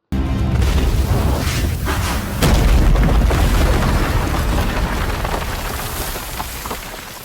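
A loud explosion in an action film erupts at once and holds as a dense, rumbling roar, swelling again midway with crackling debris before slowly fading.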